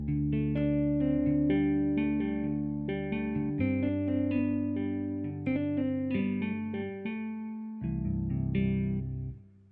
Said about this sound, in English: We've also got the Jazz Guitar Clean.